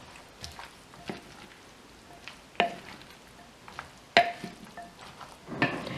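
Pasta salad is stirred with dressing in a bowl, giving soft wet squelches and scattered clacks of the utensil against the bowl, irregular and close.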